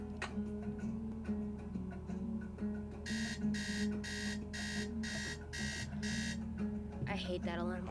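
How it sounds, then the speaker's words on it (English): Alarm clock in a Nancy Drew video game rings in a run of about seven rapid, evenly spaced electronic beep bursts over a low background hum, with speech around it. "I hate that alarm clock."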